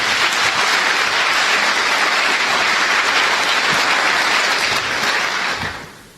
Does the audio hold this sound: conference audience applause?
yes